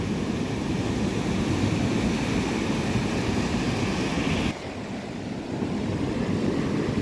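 Ocean surf breaking on the shore at Rosarito, a constant loud roar of waves mixed with wind buffeting the microphone, briefly dipping partway through, and no one speaks.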